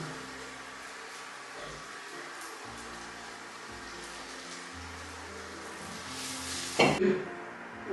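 Curry leaves and split green chillies frying with onions in a pan for a salmon head curry, a steady close sizzle and hiss that flares into a louder crackling burst toward the end.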